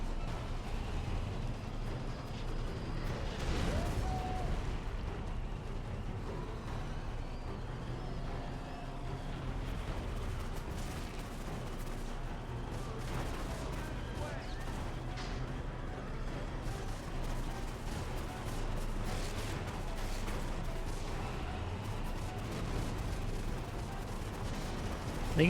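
Enemy gunfire in Endgame Prototype, a steady barrage of distant shots and booming artillery-like bursts rolling on throughout, with little talk.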